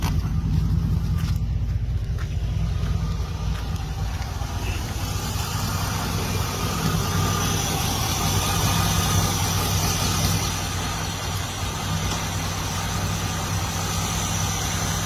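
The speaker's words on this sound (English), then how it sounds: "we're going to see what the motor sounds like now" A 2005 Chevy Silverado with almost 320,000 miles and an unopened motor idles after a TriboTEX engine and transmission treatment. The low, steady engine rumble runs loud and close with no pauses.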